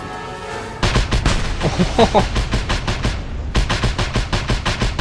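Rapid gunfire and booming barrel explosions in the video game Just Cause 2, loud rhythmic bursts of shots with heavier blasts mixed in after a brief quieter opening.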